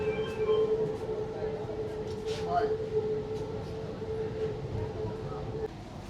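A Kolkata metro train runs near Salt Lake Sector V station, a steady low rumble with a sustained electrical whine and brief squeals over it, moderately loud and continuous inside the carriage.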